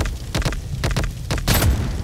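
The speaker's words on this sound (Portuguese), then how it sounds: "Caraca, deu granada aqui." Muffled booms and a heavy thud from a grenade blast in the shooter game Blood Strike, with several short bursts and a louder, broader blast near the end, and no talking.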